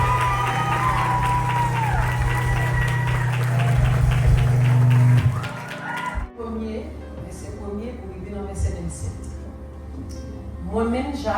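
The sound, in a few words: audience applause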